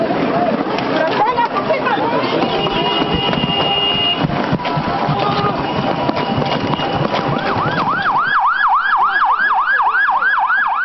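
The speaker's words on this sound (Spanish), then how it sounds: "apenas empezaron a sonar las sirenas, todo el mundo empezó a correr" Emergency sirens wailing during an evacuation from Fuego volcano activity, first mixed into loud outdoor commotion and traffic, then a clear rising-and-falling siren cycling repeatedly and loudly in the last seconds.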